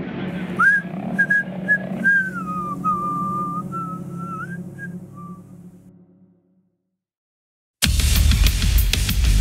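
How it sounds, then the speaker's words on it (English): A person whistles a wavering melodic tune, clear and close, fading out into silence before a sudden burst of louder noise. "Good thing he can whistle."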